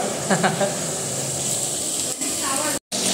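Potatoes and cauliflower frying in a pan give a steady, close hiss and sizzle with faint stirring clatter, broken by a brief gap near the end.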